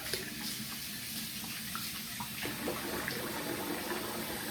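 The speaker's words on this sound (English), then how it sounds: "All right, I'm gonna rinse the face." Water runs steadily from a tap during a face rinse after a double-edge razor shave, a constant splashing wash with small irregular spatters, close and fairly quiet.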